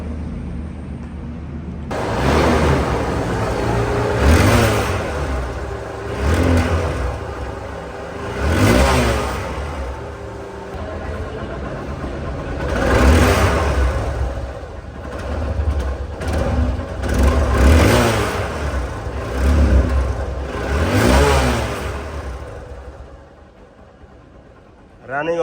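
A second-hand 2021 Hero Hunk double-disc motorcycle engine idles and is revved repeatedly in surging bursts, loud and close, with voices talking now and then.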